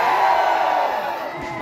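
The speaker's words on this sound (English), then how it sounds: "Can we hear it from the fans and supporters of Kezhaseluo-O" A crowd of fans roars and cheers for a competitor at a professional wrestling final, a loud, sustained wash of many voices that slowly fades.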